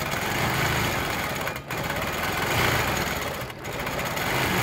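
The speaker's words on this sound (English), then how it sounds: "And I'm going to quilt a couple of swirls in here." A quilting machine stitches swirls, a fast, buzzy, continuous whir that briefly cuts out twice.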